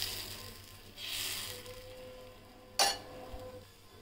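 Chickpea flour (chhatu) batter hits a hot griddle and fries with a soft, steady sizzle, broken by one sharp metallic scrape of a ladle near the end.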